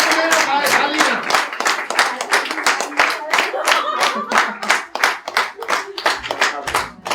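Applause from a seated audience at a training camp keeps going as loud, rhythmic group clapping in quick regular bursts, with voices faintly mixed in underneath.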